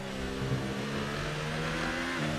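A Formula 1 car engine from the F1 2018 racing game at the Russian Grand Prix wails in a steady high-pitched drone, loud and constant with slight pitch shifts as it holds speed.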